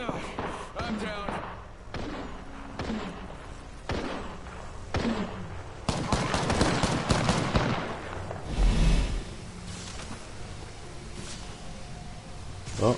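Gunfire in the Apex Legends battle royale shooter, with a dense burst of rapid shots and thuds in the middle and scattered impacts around it, all mixed with game sounds and players talking.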